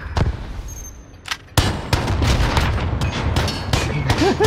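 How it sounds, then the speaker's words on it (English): A landmine detonates in a cargo gunfight video game, a sharp heavy boom followed by a dense stretch of gunfire and impacts, with a voice speaking briefly before it. "Landmine."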